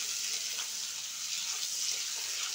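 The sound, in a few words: onion frying in oil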